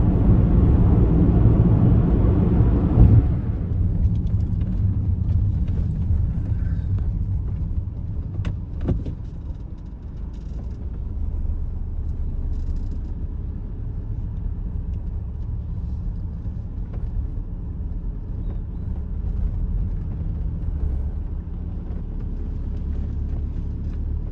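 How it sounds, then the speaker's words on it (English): Drift car engines at a track-day practice session at Teesside roar loudly at first, then drop to a steady, more distant rumble that carries on for the rest of the stretch. "Drifty cars everywhere, drifty cars, we love drifty cars."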